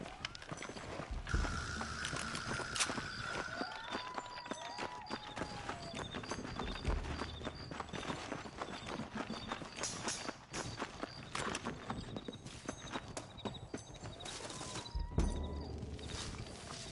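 Horses' hooves clip-clop in a video game, a steady walking rhythm of many light hoofbeats running through the whole stretch, mixed with game ambience and other busy noise, moderately loud and close.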